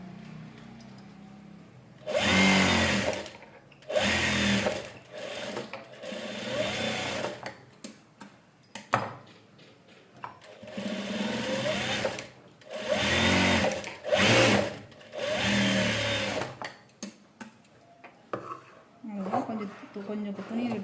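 A sewing machine stitches a blouse in repeated close, loud runs of a few seconds each, separated by pauses in which a voice talks.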